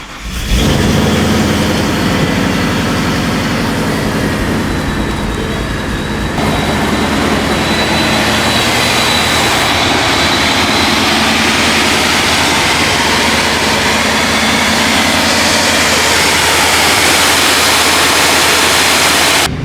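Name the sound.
1000hp Ford Mustang engine cold start and idling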